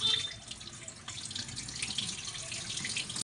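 Running tap water splashes steadily into a sink as moth beans are rinsed, close and fairly quiet, then stops abruptly.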